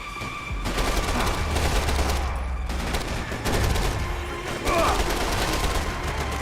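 Rapid bursts of gunfire in Max Payne 3 rattle almost continuously over a low rumble, loud and close, with several heavier shots, while someone talks now and then.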